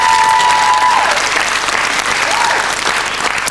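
A studio audience at a quiz show gives a contestant a loud, sustained round of applause, thick continuous clapping throughout, with a brief tonal sound and faint voices over the start.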